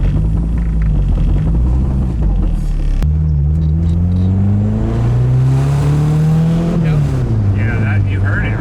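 Turbocharged K24 engine swapped into a Nissan Cefiro revs hard close by. It gives a rising droning rumble that climbs as VTEC engages, then drops off, while people talk over it.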